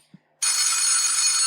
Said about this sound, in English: The sound of a telephone.